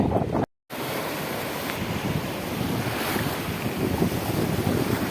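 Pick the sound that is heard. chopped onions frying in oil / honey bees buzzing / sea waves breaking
sea waves breaking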